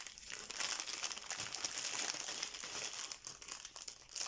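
A packaged canvas is unwrapped from its plastic wrapping, which also holds a small silica sachet, giving continuous close crinkling and rustling with irregular crackles and no talking.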